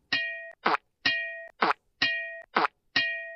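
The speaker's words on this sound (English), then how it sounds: "And then why is a bell ringing? No, that's when it hits the spittoon." A bell-like ding rings as an object strikes a spittoon, repeating about four times in a steady rhythm, each metallic ring alternating with a short thud-like plop, clear and close with no talk.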